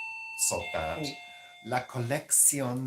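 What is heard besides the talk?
doorbell ringing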